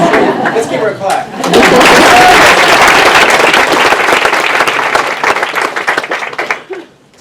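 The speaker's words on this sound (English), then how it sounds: "Let's give her a clap." An audience at a speaker event bursts into loud applause for Miriam, a dense, close wall of clapping that rises after a brief spoken lead-in and tapers off over several seconds.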